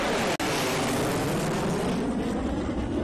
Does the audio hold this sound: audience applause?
no